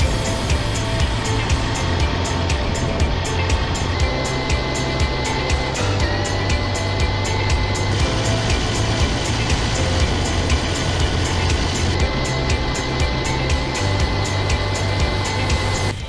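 An Axial SCX6 Honcho RC trail truck driving in its higher gear, a steady close motor and drivetrain whine with continuous rattling and crunching of tires over ground, holding constant and loud throughout.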